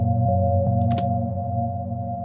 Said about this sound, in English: as you can hear, it's got a lot of reverb on it.